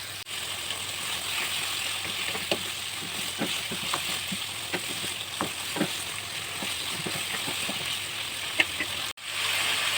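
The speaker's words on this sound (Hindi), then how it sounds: "अब इन सारी चीज़ों को अच्छे से फ्राई कर लें, आँच को तेज़ कर लेना है।" Ginger, garlic and beef fry over high heat in a pot, giving a steady close sizzle with scattered pops and a few scraping stirs throughout.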